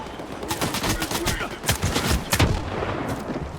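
Gunfire in S.T.A.L.K.E.R. 2, a rapid string of loud sharp shots in close succession.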